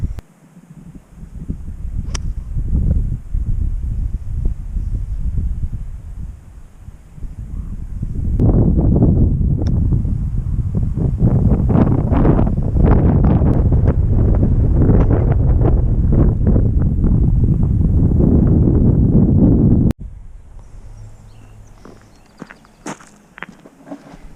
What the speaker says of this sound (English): Wind slowed a little bit.